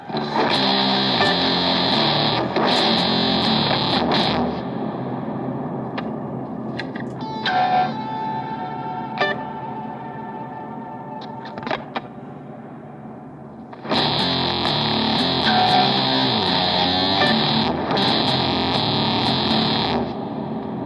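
Electric guitar run through a Big Muff fuzz on a Boss GT-1000 with heavy reverb, loud saturated chords that stop, leave sustained notes ringing and fading, then crash back in.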